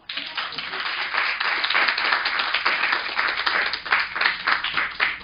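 A lecture audience claps in a steady burst, many hands close and fairly loud, sustained with slight swells throughout.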